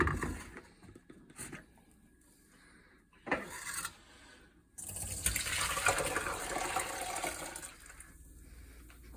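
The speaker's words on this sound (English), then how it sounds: "I go ahead and pour it back into this strainer" A blended ginger, garlic, turmeric and pineapple drink is poured into a strainer, giving a steady, close liquid pour and splash that builds after a few brief scrapes and taps.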